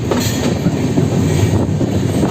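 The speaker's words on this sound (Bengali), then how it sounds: "এখনও লাইন ক্লিয়ার পায়নি তাই আস্তে আস্তে চলছে আমাদের ট্রেন" The Dhauli Express train rolls slowly along the rails from Shalimar toward Puri, awaiting line clearance, with a steady rumble and soft clatter, continuous and close, with no voices.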